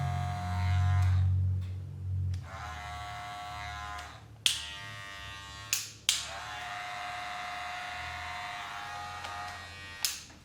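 Andis Master cordless hair clippers run with a steady electric buzz and low hum, broken by a few sharp clicks or taps, heard alone at moderate volume in a quiet studio.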